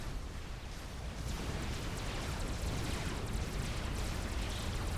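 Explosion in a Supreme Commander battle, a long dense roar of blasts and crackling debris that builds and stays steady, distant and moderately quiet.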